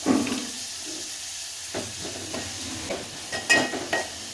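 Onions frying in a pan on a gas flame at low heat while cooking curry for puri, giving a soft steady sizzle with a few light stirring scrapes and taps, close up and without talk.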